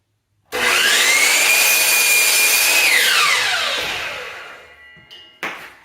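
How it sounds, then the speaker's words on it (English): A power saw cutting 3/4 baseboard trim during a kitchen cabinet installation whines up to speed, holds a loud, close, sustained cut, then winds down and fades, with a brief clatter at the end. "I like cutting baseboard like this"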